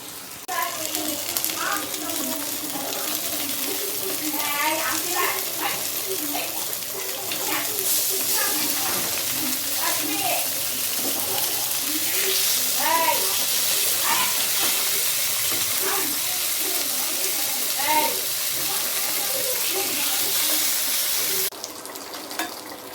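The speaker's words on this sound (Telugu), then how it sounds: "ఫిష్ ఫ్రై ఒకవైపు వేగింది ఇప్పుడు తిప్పాను అనమాట" Fish pieces fry in a pan of hot oil for a home-cooked fish curry, a steady close sizzle with crackles and spatter throughout, a voice speaking over the cooking.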